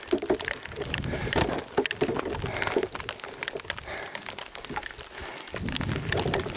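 Rain falling steadily outdoors on a mesa in the desert near Redford, Texas, a constant dense patter with scattered sharper drop hits, close and moderately loud throughout.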